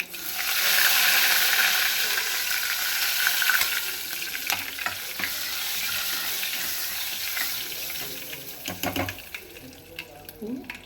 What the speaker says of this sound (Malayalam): കരിവേപ്പില ഇട്ട് കൊടുക്കാം